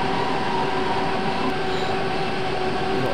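A Berlin U-Bahn subway train running in Train Simulator gives a loud, continuous rolling rumble with a steady, high-pitched whine on top and faint wheel clicks, with no one speaking.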